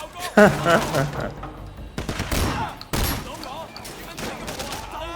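Shotgun blasts from the video game Sleeping Dogs in a final-mission firefight, several loud bursts spread across a few seconds while players talk excitedly over the gunfire.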